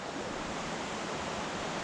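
A large river flows strongly where a tributary joins it in summer, making a dense, steady rushing hiss of water with no breaks and no voices.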